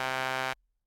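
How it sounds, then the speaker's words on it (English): Synth phaser effect with its LFO setting the modulation speed, a bright buzzy sustained tone with shifting harmonics that cuts off abruptly after about half a second. "the LFO rate sets the speed of the modulation like this."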